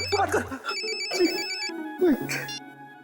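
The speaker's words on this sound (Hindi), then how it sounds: "तेरा फोन बज रहा है" An electronic phone ringtone chirps in short repeating bursts while voices talk over it nearby.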